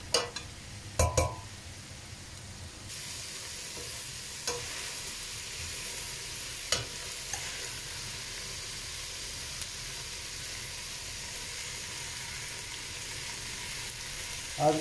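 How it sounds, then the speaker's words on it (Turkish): Onions and carrots sauté in a pan for a Turkish farm-style kebab dish, a soft continuous sizzle with a few clinks and scrapes of a stirring utensil at the start and scattered through. "Soğanlarım kavrulduktan sonra havucumu ilave ediyorum. Bir sürede böyle havucumu karıştıracağım."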